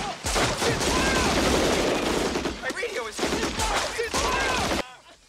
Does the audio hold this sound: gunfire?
yes